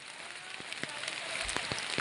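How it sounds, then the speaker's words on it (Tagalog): Steady rain hisses over everything, with scattered louder drops and taps striking a surface nearby; the downpour grows slightly heavier toward the end. "Ayan, lumakas ang ulan."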